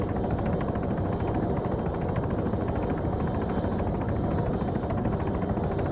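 An Arma 3 helicopter drones continuously with a dense, pulsing rotor and engine roar, loud and steady for the whole stretch with no voices over it.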